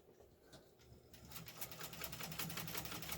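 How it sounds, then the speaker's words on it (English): A Brenda's Dressmaker Class 15 sewing machine on a bouncy plastic travel table runs in a fast, steady mechanical chatter set for longer stitches, starting softly and growing louder and busier after about a second. "We're going to go for a little longer stitch now."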